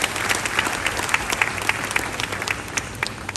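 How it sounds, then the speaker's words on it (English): Audience applause at a national cyber security awareness month event, dense continuous clapping from a large crowd filling the room at steady loudness for several seconds. "I think they deserve a round of applause."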